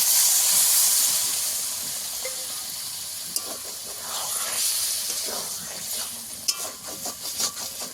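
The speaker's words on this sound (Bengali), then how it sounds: "লেগে যাচ্ছে, তাই অল্প একটু জল দিয়ে দেবো।" Water splashed into a hot pan of spiced fish masala gives a steady soft hiss and sizzle throughout, with a few light scraping and stirring clicks toward the end, close but fairly quiet.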